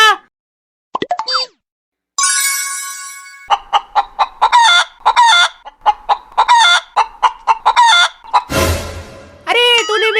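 A rooster clucks loudly in quick repeated bursts, broken by a drawn-out crowing call, with sharp plopping sounds among them.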